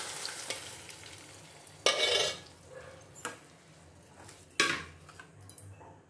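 Mashed dal goes into a pan of fried onions, setting off bursts of sizzling hiss among a few sharp clinks and scrapes of a spoon against the pan, with a quieter simmer in between.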